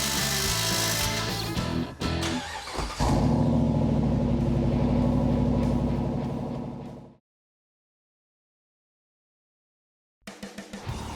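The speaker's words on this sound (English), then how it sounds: "just had to drill a couple of new holes through the cross members and add a through bolt" A power drill bores through steel cross members under a Jeep JK Wrangler, loud, dense grinding and whirring for about seven seconds, then a stretch of silence before a short burst of renewed tool noise.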